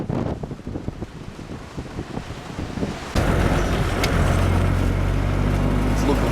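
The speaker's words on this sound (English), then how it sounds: "It's a bit windy out here" Outdoor wind at Hammersley Beach, Fitzgerald River National Park, buffeting a microphone, a steady low roar that grows louder and denser halfway through, with faint talk underneath.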